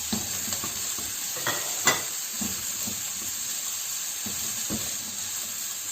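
Onion and julienned bell pepper frying in a skillet for Italian sausage, a steady bright sizzle with intermittent scraping stirs and spatula clicks, close and continuous with no talking.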